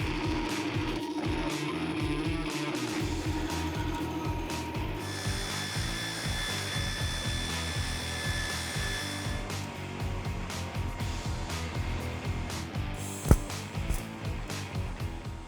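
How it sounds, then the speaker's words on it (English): A bandsaw cuts a metal part for an F-150 truck build, a steady close grinding and rasping drone with a shifting high whine partway through and one sharp knock near the end. "I'm actually just gonna cut it out into the bandsaw."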